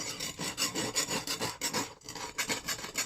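A knife blade rubbed back and forth on a soft King whetstone, a steady rasping scrape in repeated close strokes, loud and alone.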